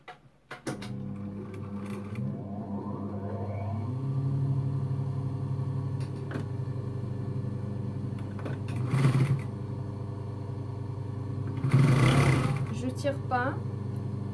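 Sewing machine running steadily while stitching a folded hem in fabric, a close continuous mechanical hum with faint rhythmic clatter, occasional bumps and a voice talking briefly.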